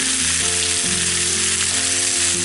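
Bacon fries steadily in a pan, a loud, dense, continuous sizzle and crackle close up with no talking.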